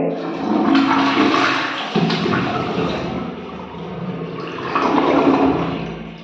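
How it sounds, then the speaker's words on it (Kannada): A toilet flushes with a loud, steady rush of water that swells again near the end, heard close up with no voices. "ನೋಡಿ ಫ್ಲಶ್ ಮಾಡಿದರೆ"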